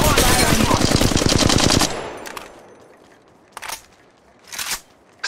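Rapid automatic gunfire from the mobile shooter Apex Legends Mobile rattles loud and close for about two seconds, then trails off into a few isolated sharp shots.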